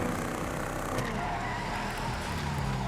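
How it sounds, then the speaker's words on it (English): The Rat Truck in GTA Online gives a steady, loud engine roar with tire squeal and skidding, sustained throughout with no voice over it. "I could still enjoy the sound of the Rat Truck. Listen to this thing."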